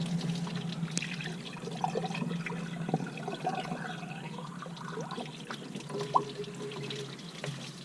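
Green coolant drains from an engine line on an FC3S Mazda RX7 Turbo II, a soft, steady trickle and dribble of liquid over a low hum, close and fairly quiet, with small splashes near the end.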